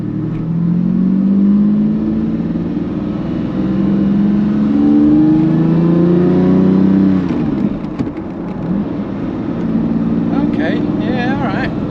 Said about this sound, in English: Okay, give it some revs